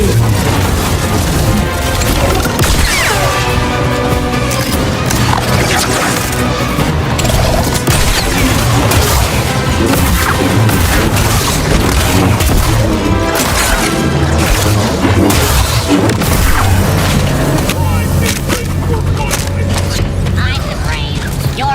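A salvo of explosions in Star Wars Jedi: Survivor, dense booms and crashes piling up over busy mechanical clatter for a long stretch, with voices talking over the din.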